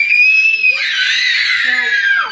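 Several excited children shriek in high, sustained screams at a visit to Sesame Place, loud and continuous with overlapping voices and laughter throughout.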